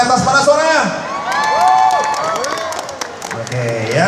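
A lively crowd at an indoor cosplay competition cheers, whoops and claps continuously, loud and close, with children's shouts rising over the din and an announcer's voice cutting through.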